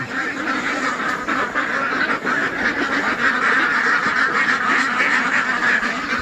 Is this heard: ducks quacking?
yes